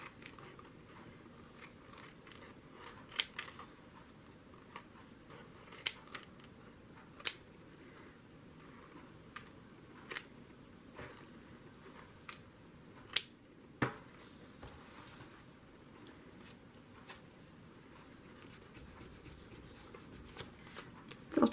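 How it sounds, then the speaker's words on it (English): Old pinking shears snip through paper in quiet, scattered crisp cuts, close and faint against a low background hum, with no talking. "I'm going to try and cut this with these old pinking shears."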